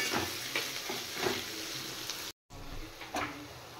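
Chopped onions fry in a pan with mace, a soft steady sizzle broken by periodic scrapes of a stirring spoon and a brief gap midway, with no talking.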